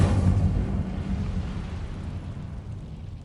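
A fire spell goes off in the Hogwarts Legacy video game as a loud, close whoosh-burst of flame that starts strong and fades into a roaring rumble over about three seconds, no talk.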